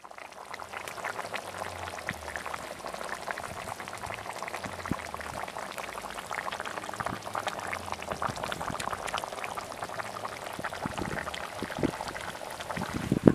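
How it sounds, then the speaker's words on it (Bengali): Chicken curry with potatoes and tomatoes simmers under a lid, giving a steady, moderate bubbling and popping that runs throughout with no voices. "ঢাকা দিয়ে বেশ কিছুক্ষণ ফুটিয়ে নেব।"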